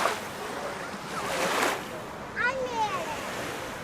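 Surf washes onto a beach in Vlorë, Albania in a soft, continuous rush with wind noise, while a voice briefly sounds over it.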